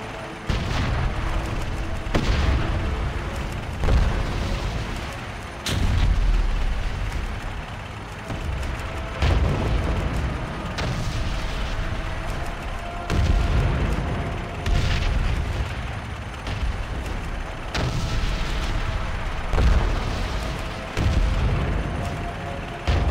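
Vehicles in World of Warcraft set off repeated heavy booming explosions, one after another at irregular intervals over a dense, continuous rumble of battle noise, loud and close throughout with no voices.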